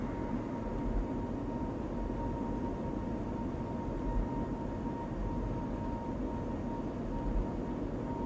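A220-300 jet engines on the takeoff roll in Microsoft Flight Simulator, a loud, steady broadband roar with a constant whine that holds without pause, and no voices.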